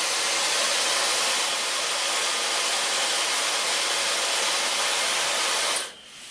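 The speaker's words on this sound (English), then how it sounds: "I will eventually start with my diffuser, always on low setting" A hair dryer fitted with a diffuser runs on a low setting while styling wavy hair, a steady close whooshing drone that cuts off abruptly near the end.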